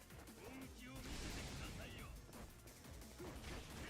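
Grenade blasts and combat in the video game Lost Judgment, a dense, noisy barrage of explosive bursts and impacts filling the few seconds, loud and chaotic, with game voices underneath.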